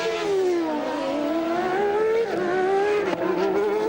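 A 1991 Formula One car driven by Nigel Mansell at the French Grand Prix screams past, its high-pitched engine note rising and falling steadily with a brief gear-change dip, loud and close throughout.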